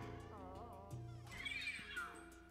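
A cat meows in the video game Luigi's Mansion 3. The meow is a drawn-out, wavering cry in the middle of the clip, heard over a steady hum of game music and ambience.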